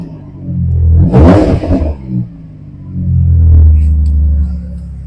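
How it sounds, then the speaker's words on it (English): A Ford F150 engine, just fitted with a new starter and fuel pump, idles, then rises in a loud rev, settles, and swells again in a second longer rev, heard close up. "Let me step on the gas a couple times."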